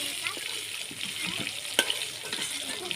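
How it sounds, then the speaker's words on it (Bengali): An egg lightly frying in hot oil in a pan sizzles with a steady hiss, broken by a few soft clinks and a single sharp tap from stirring, with no voices. "ডিমটা হালকা করে ভেজে নিয়েছি, তুলে নেব।"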